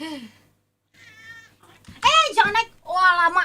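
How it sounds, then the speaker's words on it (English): A house cat meows in a few drawn-out, rising and falling cries, close by and mixed in with a person talking. "I don't know if you can hear my cat meowing"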